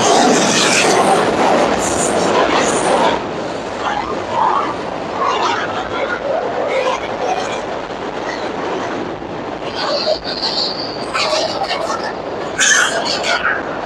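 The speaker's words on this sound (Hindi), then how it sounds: "ट्रेन भी आ रही है बिल्कुल मेरे अकब पे" A train rumbles and clatters steadily along a railway line right behind a man, near the Malir Expressway works at the Quaidabad interchange. The train stays loud and close throughout while he keeps talking over it.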